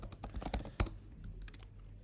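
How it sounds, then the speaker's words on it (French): Rapid clattering keystrokes on a computer keyboard sound close up, with a quick burst of typing and one firmer key press partway through. "Par exemple, si je tape Kevin,"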